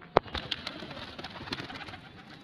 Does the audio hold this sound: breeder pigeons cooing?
yes